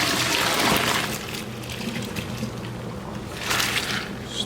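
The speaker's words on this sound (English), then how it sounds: "Draining out noodles." Pasta noodles being drained for a seafood pasta send hot water pouring and gushing into a sink, loudest at the start and again near the end, with a softer trickle in between.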